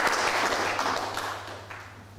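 A graduation ceremony audience applauds a sport, recreation and fitness management certificate. The clapping is fairly close and starts loud, then gradually thins and fades over a couple of seconds.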